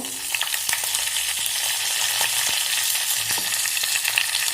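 Cumin, mustard seeds, dal and curry leaves fry in hot oil for a tempering, with a steady close sizzle dotted with frequent sharp pops and crackles from the seeds. No voice is heard.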